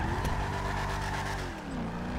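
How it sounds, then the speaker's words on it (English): A police car engine in a GTA V LSPDFR patrol revs hard and steadily, with a loud, continuous roar that shifts pitch briefly near the end, close and alone. "That engine, man. That engine's crazy."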